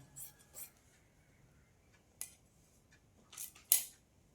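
Scissors cut through blouse fabric while shaping a boat neck and deep neck, with a handful of faint, crisp snips spaced irregularly across an otherwise quiet background.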